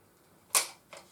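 A Browning X-Bolt Pro Tungsten rifle in 6.5 PRC has its bolt opened, giving a sharp metallic click followed by a fainter second click, close and isolated in a quiet room.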